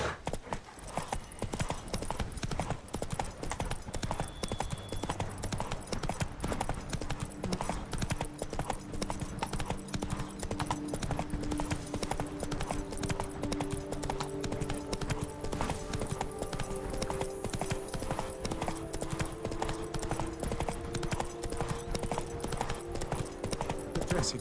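Horse galloping in the video game The Witcher 3, hooves clip-clopping in a fast, steady rhythm throughout, loud and close, with faint game music and ambience underneath and no talk.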